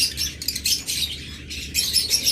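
Several cockatiels chirp and squawk in quick clustered bursts with short pauses between, close and loud against a low background hum.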